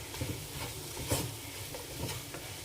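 Slit green chillies and chopped tomatoes sautéed in a pan for a fried chicken biryani, giving a soft, low sizzle with scattered stirring scrapes and light patter throughout.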